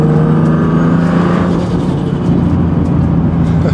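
A turbocharged car accelerates with a loud, steady engine drone close by, and the turbo flutter sits within the engine noise. No one speaks.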